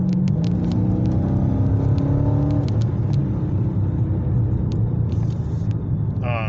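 A muscle car in track mode on BF Goodrich Comp 2 tires runs in a steady, loud engine rumble with a rising and falling mid-range drone, heard close from inside the cabin with no talking.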